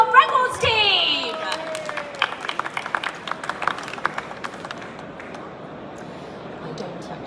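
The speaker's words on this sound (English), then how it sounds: "let's welcome them with a big round of applause. Put your hands together for the Guinness World Records team." Audience applause at Forex Expo Dubai 2025 greeting the Guinness World Records team, opening with a voice and a brief musical sting, then a scattered crowd of claps that thins and fades toward the end.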